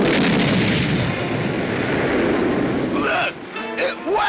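A cartoon torpedo launched on dry land lets out a loud, continuous explosive roar, like artillery. It then breaks off into brief cartoonish effects near the end.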